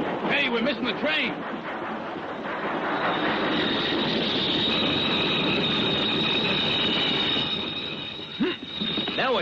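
Train running on rails in a 1967 western, loud continuous rumble with a high wheel squeal, opening and closing with shouted voices over it.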